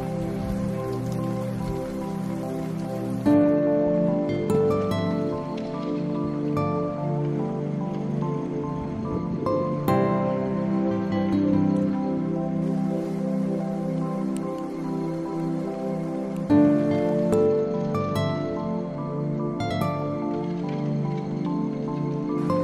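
Rain falls at a national park campsite, a dense continuous patter of drops on surfaces. It carries a layered, ringing tone and swells slightly at a few points, with no talking.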